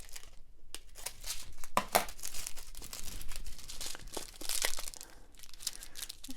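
Diamond painting canvas is cut into sections, with close crinkling and crackling of plastic-covered sheet and short snips scattered irregularly throughout, no talk.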